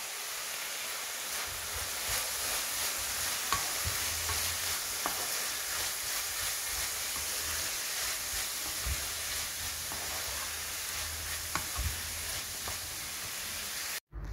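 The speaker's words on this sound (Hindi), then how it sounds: "चिकन फ्राई हो रही है।" Chicken fries in a pan with carrot, capsicum and jalapeño for a restaurant-style chicken soup, sending up a constant, even sizzle with a few soft stirring knocks scattered through it.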